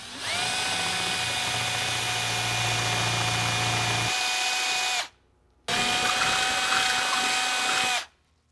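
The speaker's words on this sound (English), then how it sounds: "now we're gonna take the drill, which is approximately the same size as the well nut." A power drill bores out holes sized for well nuts while fitting a carbon front splitter to a Nissan 370Z track car, a loud steady whine in two long bursts with a brief pause between them.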